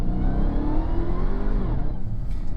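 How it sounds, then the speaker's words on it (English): A 797 hp Dodge Charger Hellcat accelerates hard with its wheels spinning, a loud, steady engine roar and tire noise that climb in pitch and then ease off near the end. "So right there, of course, I was getting a little bit of wheel spin."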